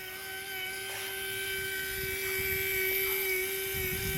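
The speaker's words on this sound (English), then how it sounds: "what I have here for a motor is a 12 volt motor that spins at 10 RPM" A 12 volt motor spinning at 10 RPM drives a homemade evaporator system built for Burning Man, giving a steady mechanical hum with a constant tonal whine that holds evenly throughout, loud and unbroken with no talk.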